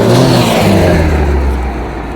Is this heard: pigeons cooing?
no